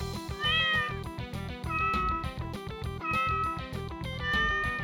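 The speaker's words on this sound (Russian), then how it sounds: "Недовольно мяучит, когда по нему попадают." A cat in a Doom game mod meows repeatedly in short, strained, similar-pitched cries over heavy, driving rhythmic game music with a distorted edge.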